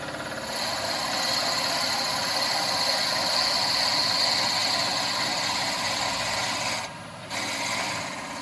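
A drill bit spins on a woodturning lathe at around 1,000 rpm and bores into a wooden mead cup, giving a steady, close grinding whir with a high whine. The bit wobbles slightly, and the sound dips briefly near the end.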